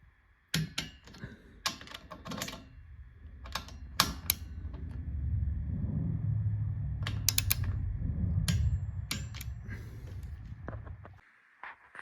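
Mechanical clicks and ratcheting as bolts are tightened down on a rear headache rack for a 2024 Polaris Ranger XP 1000 Northstar Ultimate, with bursts of sharp metallic ticks over a low steady rumble, fairly close.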